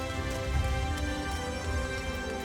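Steady rain falls in Final Fantasy XIV, a dense, even patter of drops that goes on without a break, with soft, faint knocking now and then underneath.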